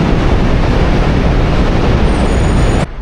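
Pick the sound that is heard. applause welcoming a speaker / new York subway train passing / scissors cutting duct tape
new York subway train passing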